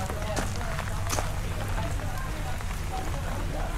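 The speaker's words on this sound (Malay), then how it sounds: "Tapi hujan." Steady rain patters on a surface, with scattered louder drops and faint voices murmuring underneath.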